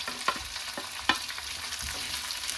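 Chopped chilies, onion and curry leaves crackle in hot oil with mustard seeds and cumin, a low steady sizzle broken by sharp pops and spatula scrapes; no one speaks.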